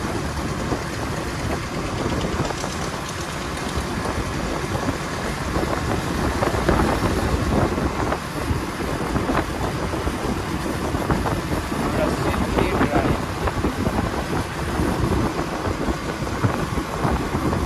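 Engine drone and road rumble from a motorbike riding on an open road, likely a KTM Duke, KTM RC, Yamaha MT15 or R15, dense and steady with fluctuating wind noise, while someone talks over it.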